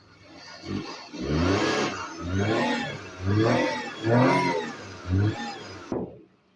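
A Maruti 800 car engine is revved repeatedly, five or six rising bursts of revving that climb and fall back, fairly close, with no talking.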